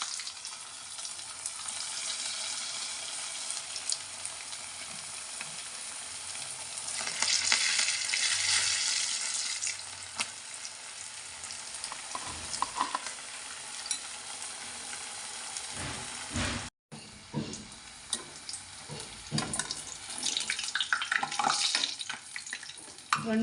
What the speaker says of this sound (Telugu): నూనె వేడైందండి, సమోసాలు వేసుకొద్దాము.